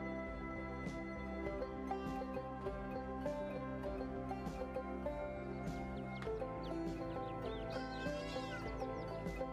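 Sheep bleating in the video game AER Memories of Old, a few short bleats rising over a steady bed of layered game music and ambience, moderately loud and with no voices.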